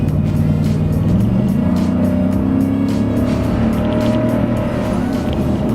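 A Ford Raptor pickup's naturally aspirated engine accelerates at full throttle, a loud close roar rising in pitch over a few seconds with no talk.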